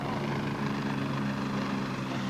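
A helicopter's engine and rotor give a steady, close droning hum with a strong low throb, running on without letup and with no talk over it.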